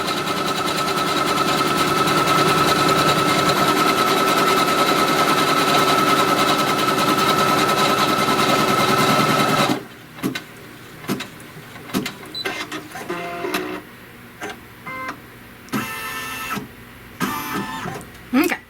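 A quilting machine stitches a quilt with a loud, continuous rapid mechanical whir that runs steadily for about ten seconds, then stops, leaving quieter clicks, bumps and handling noises.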